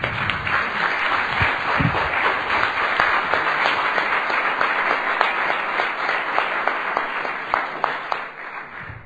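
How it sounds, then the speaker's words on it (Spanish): A church congregation applauds together in sustained, dense clapping that stays steady across the whole stretch, with brief voices early on. "Le damos un aplauso al Señor."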